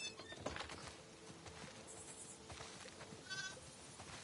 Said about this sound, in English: Listen up, sheep.